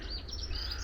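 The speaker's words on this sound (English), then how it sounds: "you can hear the birds are singing." Birds sing outdoors on a sunny day: a few faint, high chirps float over a steady low rumble of wind or distant noise in a short moment.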